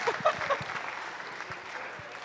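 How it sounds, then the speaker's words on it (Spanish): Audience applause at a talk on doping, a short burst of crowd clapping that is strongest at first and then tapers off, with a few voices faintly mixed in. "Un aplauso."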